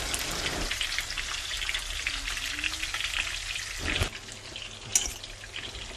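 Fish fries in hot oil with a close, dense crackling sizzle that drops briefly near the end before resuming, punctuated by a sharp tap, no talking.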